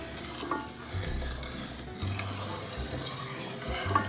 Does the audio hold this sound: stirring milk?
yes